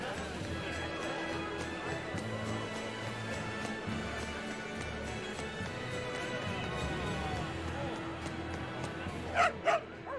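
Dog barking and yipping in the video game Tales of Berseria, heard as a series of short barks and whimpers over game music and ambience, with a brief louder burst near the end.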